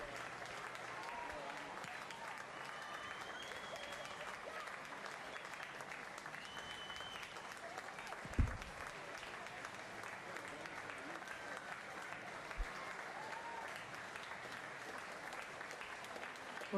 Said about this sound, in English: you can hear the applause from the crowd